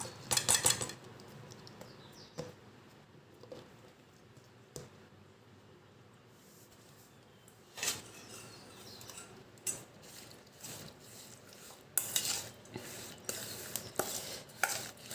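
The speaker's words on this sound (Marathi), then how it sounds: "आपण यामध्ये ही भोकरं कालवून देऊया" Bhokar fruits are stirred into cooled pickle masala by hand, producing quiet, scattered scrapes and clinks of a utensil against the bowl. Louder bursts of clattering mixing come near the end.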